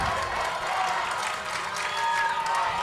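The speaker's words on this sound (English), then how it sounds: "Listen to that crowd" Crowd at a Stanly County Monday Night high school football game, South Stanly vs. Mount Pleasant, cheering and clapping in a steady broad roar of moderate loudness.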